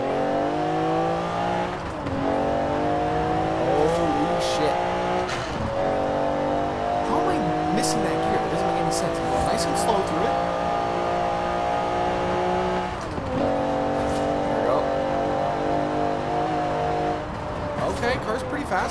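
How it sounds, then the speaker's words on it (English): A turbocharged Rossion Q1 engine in Forza Horizon 4 drones and revs continuously, with shifts in pitch as it accelerates; a person talks over it. "You hear those turbos? Oh, man, it sounds so good."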